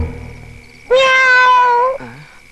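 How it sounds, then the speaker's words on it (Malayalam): A cat lets out a single loud, drawn-out meow close by, with a short falling tail at the end and a faint steady tone behind it. "വല്ല പൂച്ചയോ മറ്റായിരിക്കും."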